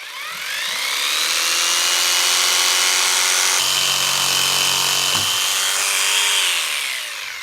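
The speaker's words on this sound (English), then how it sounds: "Now that we've cut our threaded studs" A power tool cuts threaded metal studs to length for a pet door wall mount, one sustained high whine that rises, shifts pitch partway through and winds down, close and alone.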